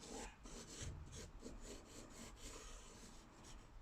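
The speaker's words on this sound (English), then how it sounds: "I am sketching lightly." Graphite pencil sketching lightly on paper while drawing a shell, a soft continuous scratchy rubbing with faint repeated strokes, close and quiet throughout.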